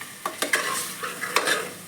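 Chicken biryani being stirred in a pot, a steady sizzle broken by several sharp scraping strokes of a spoon, close and clear with no talking.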